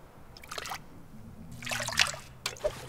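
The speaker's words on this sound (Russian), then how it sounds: "Сейчас воду просто нальем в каком-нибудь толчке." Water trickling and pouring from a toilet tank in the video game The Long Dark, faint splashing bursts in short spurts with quiet gaps between them.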